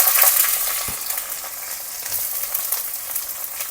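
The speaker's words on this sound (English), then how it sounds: "So we'll fry this for a little while." Onions, peppercorns, garlic and curry leaves fry in hot oil after mustard seeds, giving a steady close sizzle with faint crackles and one brief stir knock, no talking.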